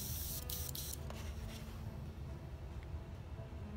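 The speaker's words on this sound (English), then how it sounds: "we're gonna again take our same airbrush" Airbrush spraying Mission Models metallic paint thinned with poly, a steady close hiss with a few short bursts at the start before settling into continuous spray.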